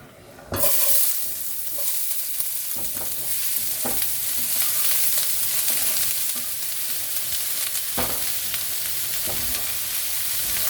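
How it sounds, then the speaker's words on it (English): Vegetables sautéing in a couple of tablespoons of olive oil in a skillet for stuffed cabbage, a steady close sizzle broken by repeated scraping stirs, with no voices. "I'm just going to be adding a couple of tablespoons of olive oil, and I'm going to start sauteing my vegetables"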